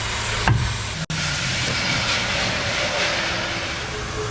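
A pneumatic air gun runs with a steady, loud hiss and whine for several seconds, broken by one short cut-out near the start, in a shop working on a Ford F350 Harley Davidson Edition 7.3 Powerstroke.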